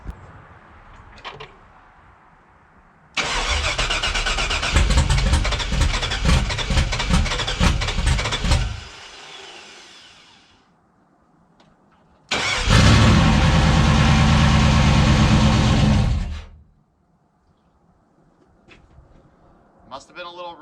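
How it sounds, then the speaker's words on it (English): An LS1-swapped Chevrolet Trailblazer cranks and catches, roaring to a loud rough run for several seconds before dying. After a pause it fires again and holds a steady, close idle before cutting off, with faint talk in the quiet gaps. "let's try and see if this thing fires up"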